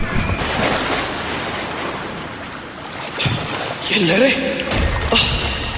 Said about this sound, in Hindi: ये लहरें तो बहुत तेज है।